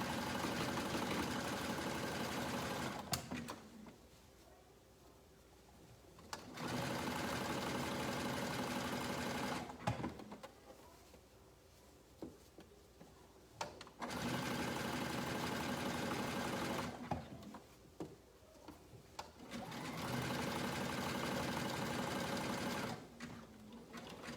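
A sewing machine stitches a child's classic swimsuit into a tankini in four long, even bursts of motor hum and needle chatter, separated by short quiet pauses.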